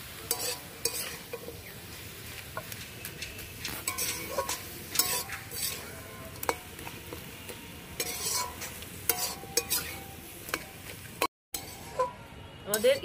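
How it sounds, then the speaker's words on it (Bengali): Cabbage cooked with a hilsa fish head and potatoes is stirred in a pan. The stirring and scraping are steady and fairly close, with a soft frying sizzle underneath and a voice talking at points. "এবার ভালো করে নেড়ে দেব।"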